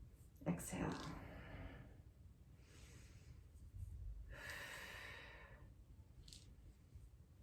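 Slow, deliberate breathing during a guided exercise routine, with audible nasal inhales and longer, breathy exhales through the mouth, quiet and close, rising and falling in a steady cycle.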